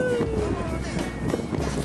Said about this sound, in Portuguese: Olha o vento. Gelado.